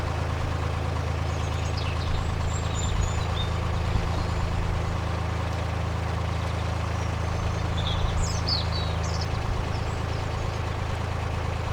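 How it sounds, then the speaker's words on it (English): Birds chirp in short, scattered bursts beside a canal near Yelvertoft Marina. The birdsong is fairly faint and sits over the constant low drone of a narrowboat's idling engine. "So much bird song, really lovely to hear."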